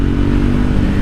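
A Triumph Scrambler 400X motorcycle roars at high speed with loud, steady engine and wind noise, a dense unbroken rush with no voices.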